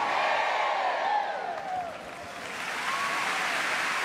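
A congregation applauds during Mass in a church, a dense wash of clapping and crowd noise that swells, dips briefly in the middle, then rises again.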